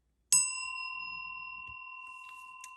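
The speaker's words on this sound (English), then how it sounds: "I'm going to go ahead and ring the bell with my trusty mascara wand until I find my mallet" A single bell is struck once with a mascara wand, producing a clear bright ding that rings on with a long, slowly fading sustain in a quiet room.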